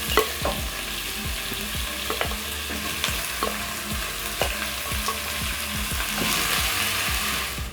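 Pork wet fry cooks in a covered pan, a steady close sizzle broken by regular clicking scrapes of stirring, continuing alone without speech.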